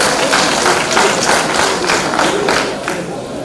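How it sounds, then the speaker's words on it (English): An audience at a media colloquium on indigenous voices bursts into applause, dense rapid clapping from a crowd that stays loud before easing slightly at the end. "a round of applause for yourself"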